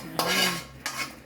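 A metal spoon scrapes and clinks against a pot twice while macaroni soup with evaporated milk is stirred, each pass a brief close scrape.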